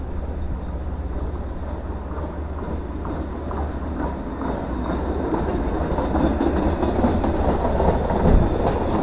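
A lorry train departs and rumbles past steadily with rhythmic clacking of wheels over rail joints, growing slightly louder toward the end.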